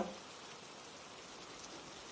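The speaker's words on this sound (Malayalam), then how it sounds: "ഈ ഉറ്റിറ്റു വീഴുന്ന ഓരോ മഴത്തുള്ളികളിലും" Soft, steady patter of falling raindrops forms a faint, even hiss with no other sound.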